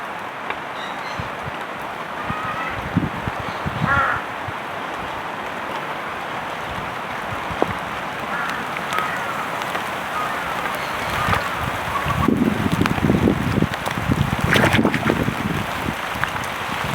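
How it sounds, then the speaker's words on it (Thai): Continuous outdoor rain hiss during frog fishing, with wind buffeting the microphone, a few louder gusts and knocks, steady throughout. "ฝนมาอีกแล้วครับ"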